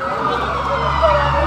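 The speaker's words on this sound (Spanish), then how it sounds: "La ambulancia, la ambulancia." An ambulance siren wails steadily in the background, a sustained tone over low traffic rumble.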